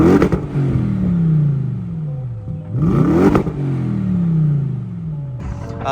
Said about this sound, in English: as you can hear with the exhaust, it does have a slightly deeper tone